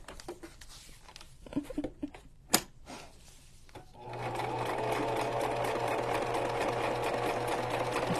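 A few faint clicks and handling knocks come first, then a sewing machine starts up about halfway through and stitches steadily through paper for a journal cover, a close, continuous whirring drone to the end.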